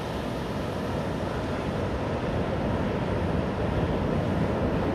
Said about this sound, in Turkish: Şu anda deniz dalga yapıyor.